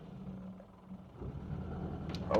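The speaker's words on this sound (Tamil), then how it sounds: "மைல்டாக த்ராட்டில் கொடுக்குறேன்" A Hindustan Motors Contessa engine under mild throttle gives a low, faint rumble that swells slightly toward the end, close and steady with no talking.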